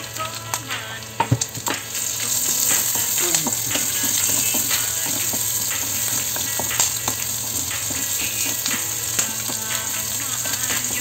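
Garlic fries in oil for pinakbet, a close, steady sizzle with scattered crackles, a few utensil knocks near the start and light stirring throughout.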